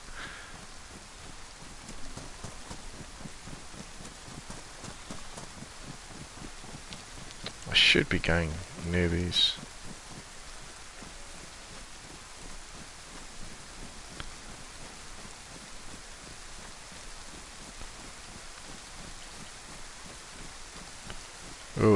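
Heavy rain pours steadily in the survival game DayZ, a constant hiss with a short louder burst in the middle, while a person talks over it.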